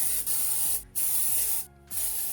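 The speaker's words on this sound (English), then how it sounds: "I'm going to take my dry shampoo" Dry shampoo sprayed onto hair in three short, crisp aerosol spritzes, each a bright hiss separated by brief pauses, close and with no talking.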